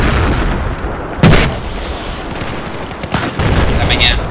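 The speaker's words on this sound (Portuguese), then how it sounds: "Os tiros estão a atravessar o barco, meu." Dense, continuous Battlefield 4 gunfire with shots passing through a boat and a few sharper bursts standing out, loud and close, with faint voices underneath.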